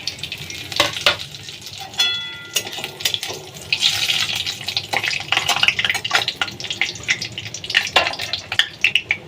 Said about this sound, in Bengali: আমি তেল গরম করতে দিয়ে দিয়েছি। এইবার আমি ফোড়নগুলো দিয়ে দিলাম।